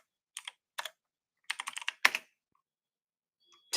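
Rapid typing on a computer keyboard during a livestream Q&A: short bursts of crisp key clicks with pauses between, close and fairly loud, and no talking.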